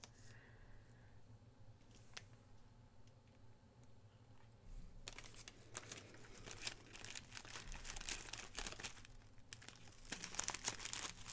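Gift-wrapping paper crinkling and rustling as it is handled up close, quiet at first, then louder, busier crackling and crumpling bursts in the second half.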